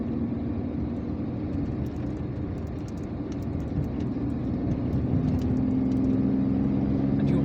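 A car drives along the roads of Algiers, heard from inside as a steady low road rumble and engine drone that rises slightly toward the end, with no talking.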